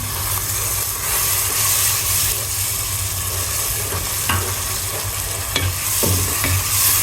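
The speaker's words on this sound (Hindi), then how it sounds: "अब मैं इनकी अच्छी तरह से भुनाई करूँगी" Ground spices and tomato paste sizzle steadily in hot oil for chicken achar gosht while a spoon scrapes and stirs through the pan, a loud continuous fry with occasional sharper clinks.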